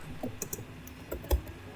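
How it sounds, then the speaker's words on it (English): Scattered keystrokes on a computer keyboard, a handful of light, irregular clicks close by with one firmer tap near the end, no voices. "Yeah, I'm typing."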